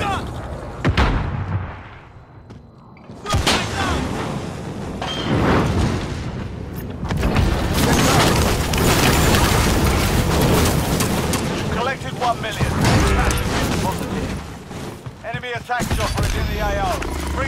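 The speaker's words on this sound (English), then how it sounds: "Enemy precision airstrike." A precision airstrike in Modern Warfare sends a rapid series of heavy, booming explosions that merge into a sustained roar after a brief lull, loud and close, with a voice speaking during the barrage.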